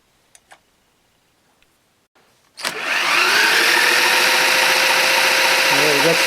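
A Tecumseh HS40 small engine cranks over after a few faint clicks and taps, then sets up a loud, steady mechanical whir and clatter that holds until the end.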